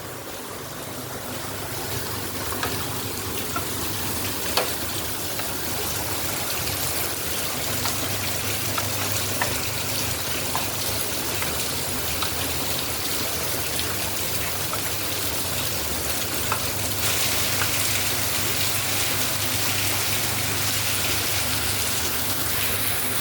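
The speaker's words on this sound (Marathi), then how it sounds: "आता परत पाऊस चालू झाला आहे तुम्हाला मी पाऊस दाखवतो बघा बाहेर" Heavy monsoon rain pours down outside in Navi Mumbai, a dense, steady hiss that stays constant for the whole stretch with no voices over it.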